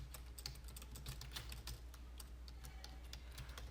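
Keys clatter on a computer keyboard as an SSH command is entered, a quick, irregular run of light clicks, faint and close over a low steady hum, with no talking.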